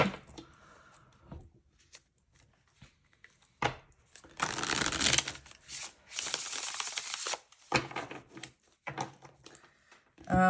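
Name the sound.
shuffling a deck of tarot cards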